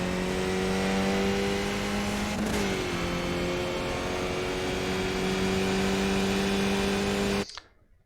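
A Skip Barber race car engine in iRacing, loud and close, holding a steady high drone before a sharp upward rev, then settling into a sustained pitch before cutting off abruptly near the end.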